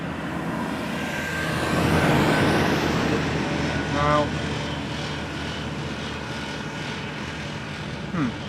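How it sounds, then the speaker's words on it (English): KLM Embraer 190 airliner arriving at Amsterdam Schiphol on a misty day, a loud, steady jet engine roar that swells and then slowly fades as the aircraft passes. "Up next, another Embraer 190 from KLM."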